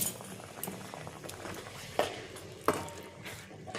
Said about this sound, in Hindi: इतनी की तेतली पानी पकाई लीनी